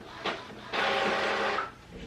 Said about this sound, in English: we're just going to load it into the printer